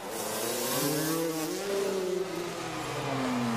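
A freestyle motocross motorcycle engine revs up and down in a drawn-out rising and falling whine, fairly loud and close, with no speech.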